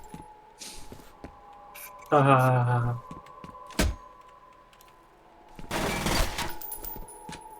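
Gunfire in F.E.A.R. aimed at a mouse: a short dense burst of automatic shots, a single sharp report, then another loud rattling burst, with game ambience between.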